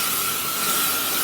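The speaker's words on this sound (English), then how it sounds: "what I normally do is just give it a quick spray" A steady, close hiss of hairspray sprayed onto styled hair lasts about a second, loud and unbroken with no voices.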